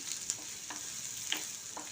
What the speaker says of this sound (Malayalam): കുറച്ച് ചുവന്ന ഉള്ളി ചെറിയ ഉള്ളിയും കൂടി നന്നായിട്ട് ഒന്ന് വഴറ്റി കൊടുക്കുകയാണ്